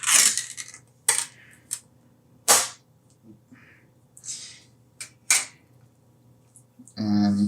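A can of Campbell's Chunky Sirloin Burger and Country Vegetables soup being opened: sharp metallic clicks and clanks at irregular intervals, close and loud, with quiet gaps between them and a brief burst of noise at the end.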